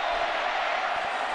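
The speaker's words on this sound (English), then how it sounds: "The crowd alive and love it." Stadium crowd at a 2008 college football game, Texas Tech against Texas, a dense, steady roar of cheering that fills the whole span, loud and wide, with no clear single voice.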